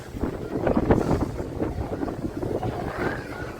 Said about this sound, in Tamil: காற்று பயங்கரமாக அடிக்குது காலையிலேயே இங்கே